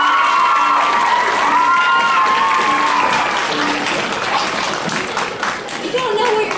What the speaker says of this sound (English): You don't know what you're clapping for yet.